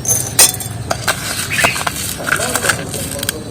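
A metal spoon clinking against a glass container as sugar is added for a homemade lemon soda, giving several bright, close taps and scrapes over a faint room background.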